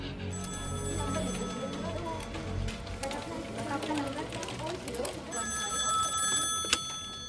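A telephone bell rings in a film scene, repeated high-pitched trills sounding over music and background speech, moderately loud throughout.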